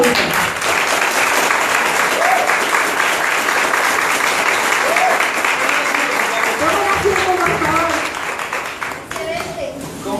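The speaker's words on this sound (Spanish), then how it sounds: "podemos dar un fuerte aplauso al señor Prajith" A standing audience at a DXN business gathering in Sincelejo, Colombia gives loud, continuous applause for a company manager, with scattered cheers and voices rising through it before the clapping thins toward the end.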